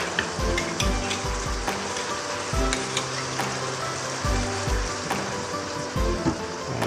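Fish sarciado with scrambled egg cooks in a pan, with a busy sizzle overlaid by repeated low knocks and scrapes of stirring at an irregular rhythm, close and fairly loud throughout.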